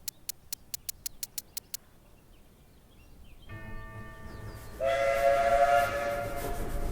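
A train whistle sounds in the point-and-click adventure game Rosewater, a steady steam whistle tone rising in after a series of sharp rhythmic clicks and a swelling rumble, holding loud for the final few seconds.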